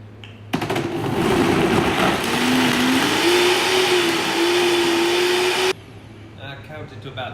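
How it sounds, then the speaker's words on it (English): A Vitamix blender runs at full power on a smoothie, a loud steady motor roar with a rising whine as the speed climbs, lasting about five seconds before it cuts off abruptly to quiet room noise. "Great, we're going to blend this and then adjust it"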